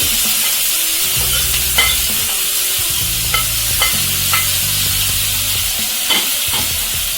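Ginger, garlic and curry leaves fry over a medium flame in a steady, close sizzle, with a few scraping stirs of the spoon through the pan and no voices.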